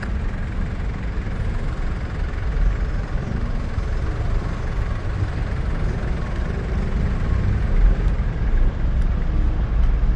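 Heavy road traffic on EDSA near MRT Taft Avenue on a rainy ride, a continuous low rumble of idling and creeping car, truck and bus engines all around.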